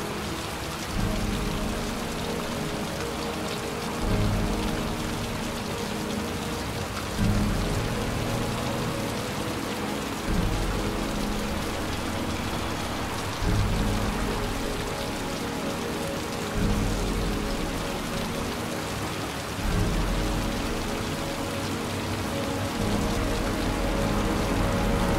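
Steady heavy rain from the video game Heavy Rain hisses throughout, with a low thunder rumble swelling and fading in repeating waves every few seconds; no voices.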